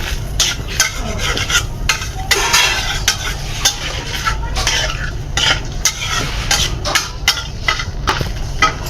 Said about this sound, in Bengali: শুটকি ভাজা তরকারি